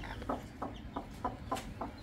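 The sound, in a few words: brooding hens clucking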